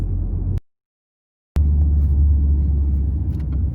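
A manual car pulls away during a driving lesson, its engine rumble loud and steady. It cuts to silence for about a second and then resumes at similar strength.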